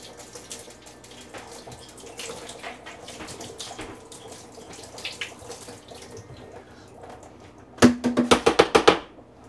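Running water from a tap splashing into a bucket as it is rinsed, quiet handling at first, then a loud burst of rushing, sloshing water near the end.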